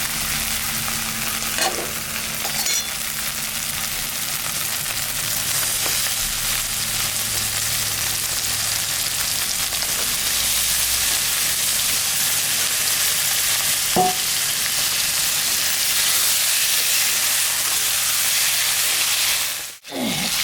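Desi chicken meat frying in a pan with a ground paste of ginger, cumin, dried and green chilies, a loud continuous hiss and sizzle with occasional stirring scrapes, nearby, and no speech.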